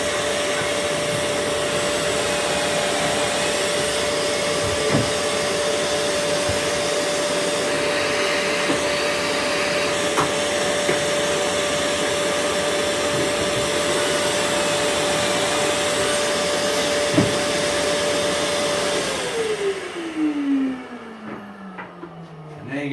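Steady loud vacuum suction drones throughout a kitchen pocket-hole jig setup, holding a constant hum before winding down with a falling pitch near the end; no talking.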